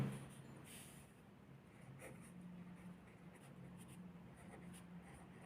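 A pen scratches across paper in short strokes while math answers are written out, quiet and close with small pauses between marks.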